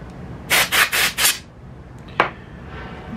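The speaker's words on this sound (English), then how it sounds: "If you don't have a can of compressed air, you can use a blower, kind of like this one." Several quick puffs from a hand air blower clear dust from a Mamiya Universal or Super 23 medium-format camera, up close and alone, followed by one short single burst.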